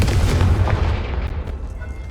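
Fiery Confringo spell blast in Hogwarts Legacy: a loud, booming explosive roar that starts strong and rumbles on for about two seconds, slowly trailing off without speech.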